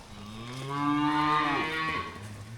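Cattle, including bulls being moved into a new pasture, give one long, loud, rising and falling moo that carries on for about two seconds, with no talk over it.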